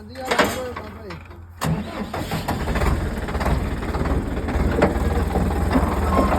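A tractor engine runs steadily during wheat sowing on a farm, starting abruptly after a brief quieter moment and then holding a loud, continuous low rumble, with voices in the background.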